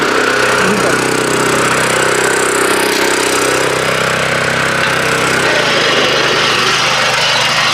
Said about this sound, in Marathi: हा क्लच हे केला मशीन स्टार्ट झालं